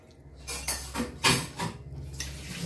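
Dishes, pots and pans clatter as they are washed by hand, giving several irregular metallic clinks and scrapes at close range, with no talk over them.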